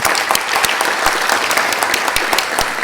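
Applause from a conference audience at a travel and border control management event's closing session, dense and steady with sharp individual claps standing out, loud and close throughout.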